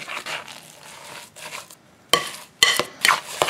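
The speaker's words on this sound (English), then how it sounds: "Just going to keep stirring this." A spoon scrapes and clinks against a bowl while a snow cream mixture made from wet snow is stirred, in irregular bursts of rubbing and sharp knocks at close range.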